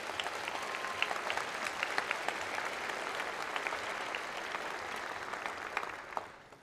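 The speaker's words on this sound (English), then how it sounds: "Let's give a round of applause for Brooke." Sustained audience applause at a Hawaii gubernatorial inauguration, a steady, fairly distant wash of many hands clapping that fades slightly near the end.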